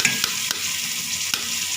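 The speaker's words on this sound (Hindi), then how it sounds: "इसको हम गोल्डन ब्राउन कलर आने तक फ्राई करेंगे। वही साथ ही हम इसमें लहसुन शामिल कर देंगे" Onions and garlic fry toward golden brown in a pan, a steady loud sizzle broken by a few sharp scrapes and knocks of stirring.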